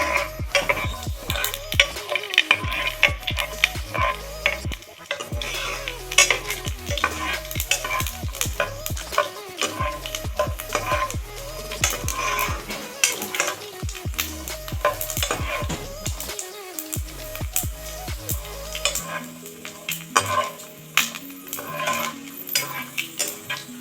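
Peanuts fry in a pan for avalakki (flattened rice) while a spoon stirs them, giving steady close sizzling broken by repeated scraping strokes, with background music throughout.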